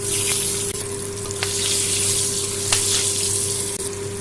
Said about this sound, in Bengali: ওই একই তেলে দিয়ে দেবো 1 চামচ কালো জিরে আর দুটো চেরা কাঁচা লঙ্কা